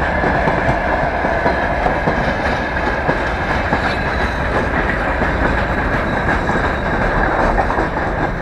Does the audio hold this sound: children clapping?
no